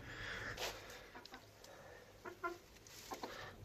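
Americana chickens in a coop give soft scattered clucks and short calls, close by but faint, with brief quiet gaps between them.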